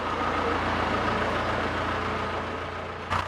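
Farm tractor engine running steadily at low rumble while backing up, a continuous close drone with a brief knock near the end.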